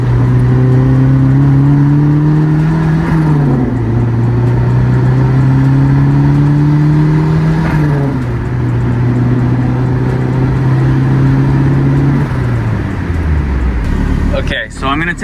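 A turbocharged Mazda Miata drives and turns, its engine droning close and loud, pitch rising through gears and dropping at each shift, slowing near the end, with talking over it.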